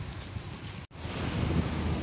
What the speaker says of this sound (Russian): Ветром кепку сносит.